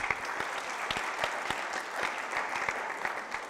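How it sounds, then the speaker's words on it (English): A summit audience applauds a young man named Salim Al-Riyadh as he is called on stage, with dense, steady clapping from a sizable crowd holding at an even level for a few seconds. "Give a big clap to Salim Al-Riyadh as well"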